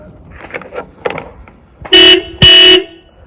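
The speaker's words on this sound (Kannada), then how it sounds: "ಇಲ್ಲಿ ಹಾರನ್ ಸಿಗುತ್ತೆ ನಮಗೆ" Two loud, sustained honks from a Mahindra 475 DI 42 hp tractor horn, each under a second, close by, following some faint murmuring voices in the background.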